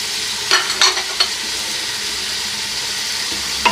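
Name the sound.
cloves added to frying Afghani pulao pot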